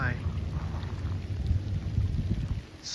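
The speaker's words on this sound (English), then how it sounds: "It's still raining." Steady rain falls outdoors near a waterfront with a ferry across the way, a dense continuous patter with low rumbling wind noise running throughout at a moderate level.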